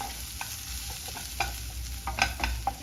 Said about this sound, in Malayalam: ഇനി ഇതൊന്ന് നന്നായിട്ടൊന്ന് മൂപ്പിച്ചെടുക്കാം